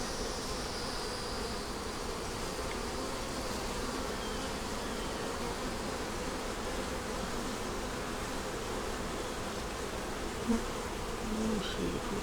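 Honey bees buzz steadily and densely around an open hive during an inspection, a continuous close hum with no pauses.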